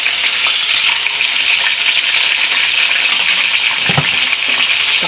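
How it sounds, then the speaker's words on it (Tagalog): Fish sizzles loudly in hot cooking oil in a frying pan, a dense, continuous crackling hiss close by with occasional small pops and no voices over it. "Pwede na nating ilagay ang ating isda."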